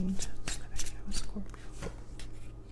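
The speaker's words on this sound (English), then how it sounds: "That was a sloppy shuffle." Cards being shuffled in a series of quick riffling bursts and soft taps, close up, with a voice murmuring in the background.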